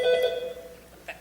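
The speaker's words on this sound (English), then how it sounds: "The phone!" A telephone-ring sound effect plays during a 2016 high school stage production of Neil Simon's comedy Rumors: one short, loud, bright burst of ringing, then near quiet.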